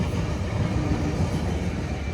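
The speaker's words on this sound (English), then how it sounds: "that train is going to go by" A train rolls past outdoors, a steady low rumble of wheels on rails holding at a constant level with no voices over it.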